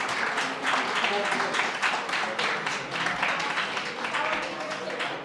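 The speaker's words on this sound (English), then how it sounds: "Let's give them one more round of applause." An audience applauding after a panel discussion, a loud, close, steady burst of clapping that runs the whole way through, with some voices mingled in.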